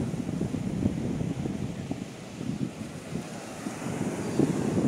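Waves at Eden Beach in Pondicherry roll in as a continuous rumbling wash of surf, with gusty wind buffeting the microphone.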